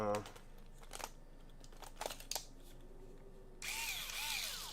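A cordless power drill spins up close by with a bright whirring whine that starts abruptly near the end, following a stretch of faint talk and light handling clatter in a room.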